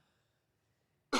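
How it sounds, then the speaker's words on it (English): A single loud cough bursts close into a microphone at the very end, after near silence. "Sorry if I just coughed in the microphone."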